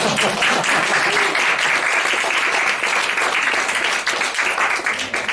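A lecture audience at an author's talk on tidying breaks into sustained, loud applause, many hands clapping densely and evenly throughout, with no talk over it.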